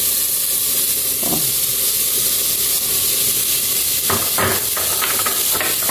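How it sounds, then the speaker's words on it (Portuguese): Chopped white onion and garlic frying in a hot pan, a loud continuous sizzling hiss with a few scraping stirs near the end. "Aí a gente vai dar uma fritada aqui na cebola com o alho."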